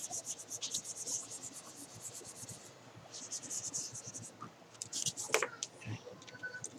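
Erasing a graph from a classroom board makes a soft, uneven rubbing and scratching that runs throughout in quick strokes. It is fairly faint, with a few louder swipes near the end.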